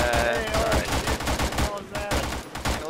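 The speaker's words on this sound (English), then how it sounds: "We're using G3s, we might as well. They're full on battle rifles." G3 battle rifles fire in a ShackTac military video game, rapid loud repeated shots in quick bursts overlapping into a near-continuous fusillade with a brief gap before more shots.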